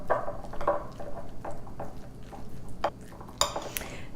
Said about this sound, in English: And we're just gonna mix it all together.